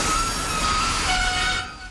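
A train rolls past in a film scene set aboard a presidential train bound for El Paso, a loud continuous rumble and rush with a wavering metallic squeal riding on top, no voices.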